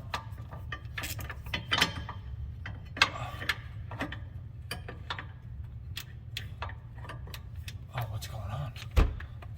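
A hand ratchet works loose the shock absorber bolts on a 2016-2023 Subaru WRX STI in tight clearance, giving scattered close metallic clicks and ticks over a steady low hum, with a sharp knock near the end.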